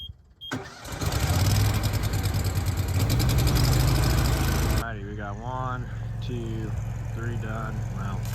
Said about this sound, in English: Guess we'll start up the welder and get to burning some rod.